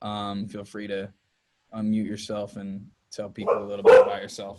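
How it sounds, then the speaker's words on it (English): A pet dog barks a few times close to a microphone during an online video meeting, the sharp yaps landing near the end while a person is talking. "That's my dog."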